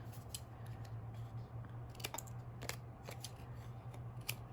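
Scissors snip paper, trimming pieces for a handmade card, with several short, crisp cuts spaced irregularly over a low steady hum, close and quiet.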